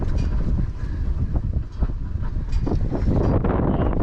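An AmpAir wind turbine running outdoors with a loud, continuous whirring rumble and strong gusting wind noise on the microphone, steady throughout.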